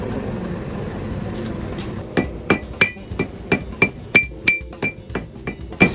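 Blacksmith's hammer striking hot metal on an anvil while shaping a leaf, a steady run of about fifteen sharp ringing clanks at an even pace after a brief stretch of low rustling and background noise.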